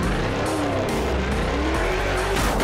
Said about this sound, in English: Custom dragster slams into place behind the VW.